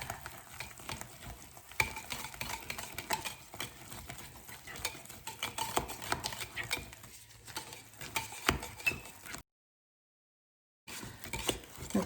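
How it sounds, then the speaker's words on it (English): A spatula stirs a thickening mixture of tallow soap with charcoal and clay in a pot, giving steady scraping and swishing strokes with no talk, then a short silent gap before the stirring starts again. "just need to get the spatula here and stir it down again"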